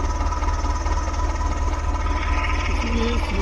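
A video game tractor engine idles with a steady low, pulsing rumble and a faint mechanical hum, continuous and even with no other sounds.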